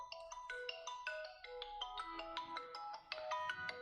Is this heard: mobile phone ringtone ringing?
yes